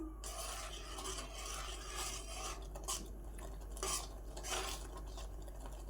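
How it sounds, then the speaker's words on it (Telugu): Custard powder stirred into semiya kheer in a pan, a soft repeated scraping and rubbing of a spoon against metal, faint and close with no voices. "కస్టర్డ్ పౌడర్ ఉంది కదండి ఇది ఇందులో వేసుకోవాలి ఒకసారి మిక్స్ చేసుకుందాం"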